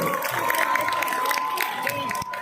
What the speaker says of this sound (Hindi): आप सभी की जोरदार तालियों के साथ कर सकते हैं all together